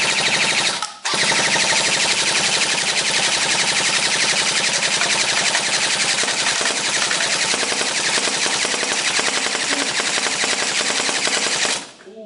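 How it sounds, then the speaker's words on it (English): A Lancer Tactical airsoft AEG fires one long, loud continuous burst of rapid full-auto shots during a stress test, with a short break near the start and an abrupt stop at the end. "Let's pop it in the old Lancer Tactical. Oh shit, it still shoots."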